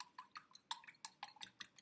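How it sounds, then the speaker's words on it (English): A whisk clicks rapidly against a bowl while beating an egg with milk, a quick steady run of light, bright taps close by. "I'm going to just whisk this together"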